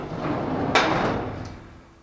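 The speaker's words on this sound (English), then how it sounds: "we got the traditional bulkhead door setup" A bulkhead door in a Utilimaster Velocity delivery van, a walk-in FedEx package truck with heavy aluminum construction, slides along and stops with a single sharp bang, close and loud, then a rumbling tail fades out.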